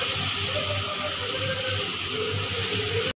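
Water pours and splashes steadily into a pan of masala for vegetable kurma, a continuous gushing hiss with a low bubbling undertone, close by and without a break.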